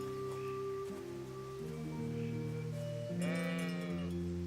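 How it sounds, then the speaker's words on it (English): A sheep bleats in the medieval game Kingdom Come: Deliverance, out in the village of Skalitz. A low, steady drone carries through, then a single nasal bleat sounds near the end, moderately close over quiet ambience. "Alright, what's up, sheep?"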